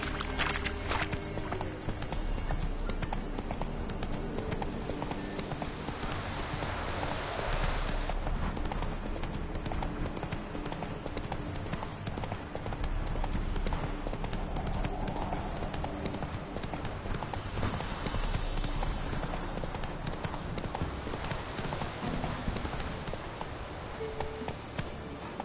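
Roach the horse galloping in a video game, hooves clip-clopping in a steady rhythm across the whole stretch, layered with game music and ambient sound.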